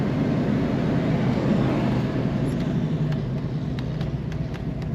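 A 1969 Chevrolet Camaro RS Convertible with the top down, its engine downshifting on a road in Minnesota, gives a steady, loud, broadband rumble mixed with road and wind noise for the whole stretch.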